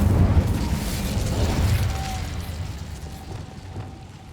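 An Incendio fire spell in Hogwarts Legacy bursts out with a loud whooshing blast at the start, then trails off into a low, fading rumble with a faint thin tone.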